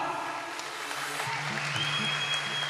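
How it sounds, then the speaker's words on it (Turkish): A crowd at a fight club event applauds the winning girls, a continuous spread of clapping at moderate distance over a low hum of the venue. "Alkış yok mu bu kızlara?"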